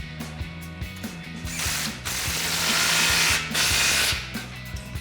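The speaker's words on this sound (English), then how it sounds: "Now we can tighten up the muffler clamp with a 15 mil socket." A ratchet with a 15 mm socket tightens an exhaust muffler clamp on a RAM 1500, giving quick bursts of close metallic clicking, with a louder, denser run of clicks in the middle.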